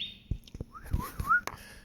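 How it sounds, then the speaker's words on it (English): Bird chirps and whistled calls ring out outdoors in a short, close sequence of sliding tones and sharp clicks, with no talking. "Got your birds."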